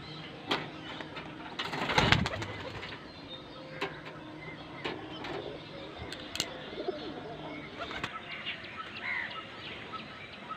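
Pigeons from a rooftop coop coo softly at close range, with a short, louder burst of flutter early on and scattered light knocks, while faint traffic hums in the distance.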